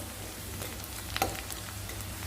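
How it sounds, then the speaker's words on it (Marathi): Chopped onion sautéing in a pan for a potato bhaji, giving a soft, steady sizzle and crackle throughout, fairly faint and with no talking. "चांगला कांदा, थोडासा कलर बदलेपर्यंत आपल्याला हा कांदा पूर्ण परतून घेणार आहोत."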